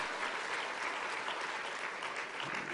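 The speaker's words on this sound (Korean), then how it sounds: "여러분 박수 한번 주세요." A church audience applauding during a pastor's talk to teachers, a dense, steady wash of many hands clapping that holds evenly through the whole moment with no voices.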